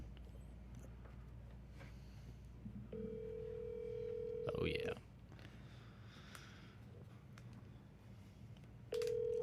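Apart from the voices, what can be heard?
telephone dialing tones calling a real estate agent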